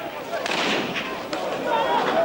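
Gunshots during looting in a city district: a few sharp reports over a dense, roaring crowd and street din. Two distinct cracks stand out amid the continuous noise.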